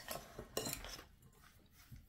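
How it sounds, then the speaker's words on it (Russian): A spoon stirs cottage cheese and semolina mixture for apple syrniki in a bowl, faint close scraping with a few light clinks of metal on dish, no voices. "И теперь все хорошенько перемешиваем."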